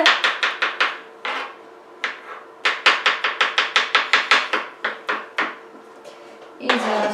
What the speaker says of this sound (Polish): Cebulę trzeba kroić na bardzo cienkie takie paseczki